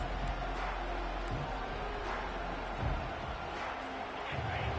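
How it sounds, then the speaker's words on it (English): A football stadium crowd at a Michigan versus New Mexico game roars steadily from a distance, a broad wash of cheering and chanting that swells slightly partway through. "This crowd trying to show them what it's going to be like all day in this house."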